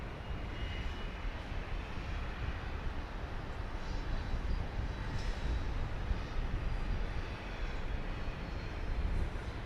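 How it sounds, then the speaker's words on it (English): Southwest Boeing 737-700 jet taxiing and turning onto the runway before takeoff, a steady, fairly distant broadband engine roar with low rumble holding evenly throughout, no voices. "I think I see a 737-700 getting ready to make the turn to take off"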